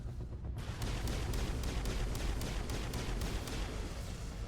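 Rapid gunfire in the Mass Effect video game comes as a regular burst of sharp, evenly spaced shots, loud and close over a low rumble, after a brief quieter opening, with no talking.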